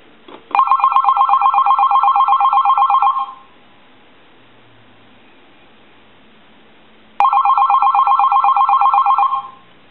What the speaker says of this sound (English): I want to go ahead and ring the phone